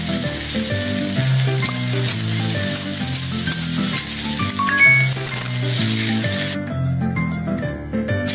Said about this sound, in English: Add pepper. Mix everything together.